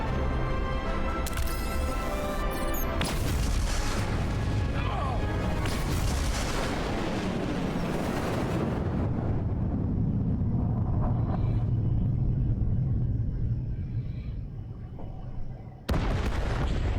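A large explosion detonating in the Star Trek: Resurgence video game, a heavy continuous rumbling blast that roars for several seconds, then slowly fades to a low tail before an abrupt cut.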